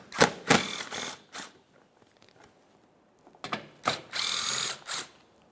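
Ratcheting clicks from a hand ratchet backing out a pair of 10mm bolts on a 2014-2018 Mazda 3 front inner fender liner, two close bursts of rapid clicking separated by a quiet pause.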